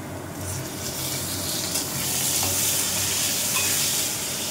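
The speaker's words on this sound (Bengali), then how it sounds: "কড়াটাও গরম হয়ে গেছে। পেঁয়াজটা দিয়ে দিলাম।" Onions sizzle steadily in a hot wok, a dense continuous frying hiss with faint stirring underneath, no voices.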